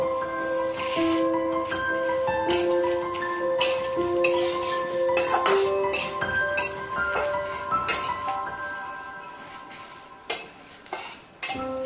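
Cumin, fennel, nigella, coriander, fenugreek, dried chillies and bay leaves dry-roasting in a pan, with repeated metallic clinks and scrapes of a utensil stirring against the pan, plus faint tonal background music.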